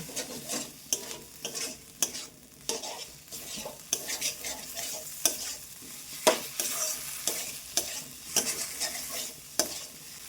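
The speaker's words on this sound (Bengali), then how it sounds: "এইবার আলু দিয়ে আবার একটুখানি ভালোভাবে কষিয়ে নেব" Boiled potatoes stir-fried in a pan with a spatula, giving repeated scraping strokes in an uneven rhythm over a soft sizzle, close and moderately quiet, with no voices.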